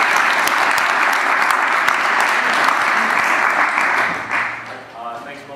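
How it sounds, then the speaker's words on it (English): Steady applause from a lecture audience right after a speaker's introduction, loud and sustained before tapering off near the end, where a voice starts to speak. "let's give a round of applause"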